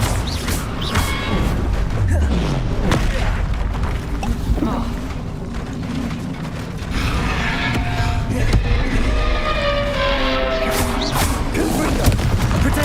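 Confringo blasting spells explode again and again during combat in Hogwarts Legacy, booming and crashing under a dense, busy game soundtrack with crowd-like noise, with no clear silence between hits across the whole stretch.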